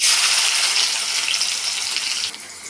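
Onions frying in hot oil with cumin seeds in a kadhai, a bright, steady hiss that sounds almost like running water, close and continuous before easing slightly near the end.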